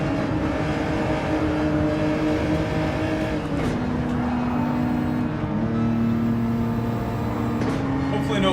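Gr.4 race car in Gran Turismo 7, its engine droning in a steady, buzzing tone that steps to new pitches several times as the gears shift, loud and up close.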